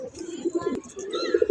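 Pigeons at a loft coo softly and repeatedly close by after being released, with a voice in the background.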